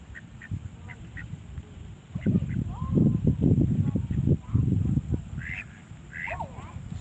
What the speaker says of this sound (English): Another pair of geese.